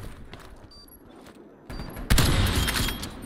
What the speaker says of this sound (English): AFK guy just shooting his gun